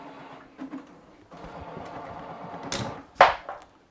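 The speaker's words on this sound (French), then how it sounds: "On va débrancher l'imprimante qui a décidé de partir un nettoyage dans le vide." A printer in a ham radio station setup running a cleaning cycle on its own: uneven mechanical whirring and rattling in bursts, with a sharp knock near the end, and no talk.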